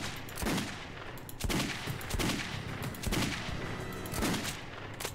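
Repeated bursts of gunfire in the video game Metro 2033 Redux, several sharp volleys spread across the moment, loud and close over a continuous background of game noise, with no talking.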